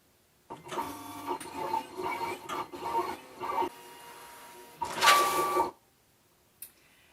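A Siser Romeo cutting machine cuts vinyl fed from a roll, giving soft, close whirring and stepping motor bursts in short runs, then a louder burst of rapid movement and a brief click before it falls quiet.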